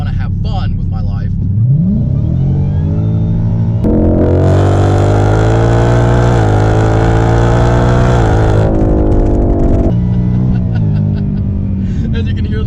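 A 700HP 2018 Mustang with a 10-speed automatic downshifts and accelerates hard, its engine note climbing loudly with an audible whine, then easing off as someone talks over the drive.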